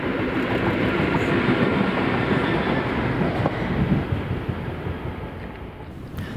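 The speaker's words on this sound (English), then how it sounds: "to see OZ57, East Kilbride to Motherwell TMD Freightliner, 66108 passing at 10:51" Freightliner Class 66 diesel locomotive 66108 hauling a freight train past on the line near Thornton Hall, a steady loud rumble and roar of passing wagons holding throughout with wind buffeting the microphone.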